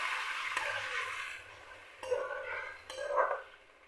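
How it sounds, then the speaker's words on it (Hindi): Ginger garlic paste stirred and fried with onions in a pan, a soft sizzle with a few scraping stirs and light clinks of a utensil against the cookware, close and moderately quiet, with no talking. "अब मैं इसमें अदरक लहसुन का पेस्ट शामिल करूँगी और इसको अच्छे तरीके से मैं भूनूँगी।"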